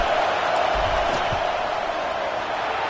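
Stadium crowd at a Michigan versus Nebraska college football game roaring during a field goal attempt, a steady, loud wash of distant cheering and noise that holds throughout.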